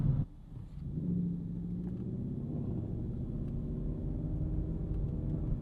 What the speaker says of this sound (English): Nice sounding Audi S5.